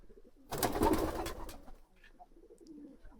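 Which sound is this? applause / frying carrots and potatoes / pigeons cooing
pigeons cooing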